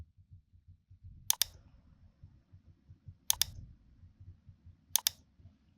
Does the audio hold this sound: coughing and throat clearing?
no